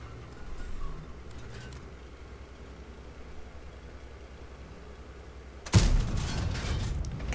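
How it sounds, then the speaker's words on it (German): A tank cannon shot in World of Tanks, with a Soviet T34-100 as the target: a sudden loud blast near the end, then sustained rumbling, after a long stretch of low engine drone. "Da noch ein Schuss durchs vordere Kettenrad durch den T34-100."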